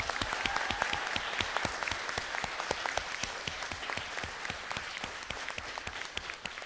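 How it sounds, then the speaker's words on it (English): Sustained audience applause at a championship round of a mock trial tournament, a dense steady wash of many hands clapping with sharp individual claps standing out, moderately distant in a hall. "Let's give our teams a round of applause."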